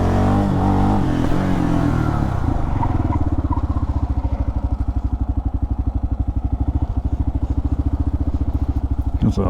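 A Kawasaki KLR650 single-cylinder motorcycle fitted with a JD tuner, heard close up. It revs hard at first and then settles into a loud, rapid, pulsing thump that carries through to the end.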